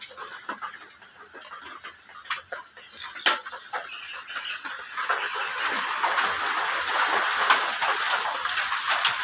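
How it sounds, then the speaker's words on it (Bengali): Rain hisses steadily and grows denser, with scattered sharp taps and a few faint animal clucks early on. "হঠাৎ করে আবার বৃষ্টি নেমে গেছে আবার বৃষ্টি হচ্ছে"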